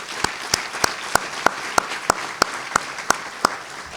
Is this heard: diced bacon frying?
no